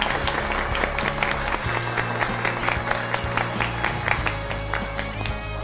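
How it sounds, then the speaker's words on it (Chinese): A crowd applauds two new firefighters at a farewell lunch, steady clapping filling the room for several seconds with a faint murmur underneath. "我们这边用掌声感谢一下这个两名新消防员为大家的付出"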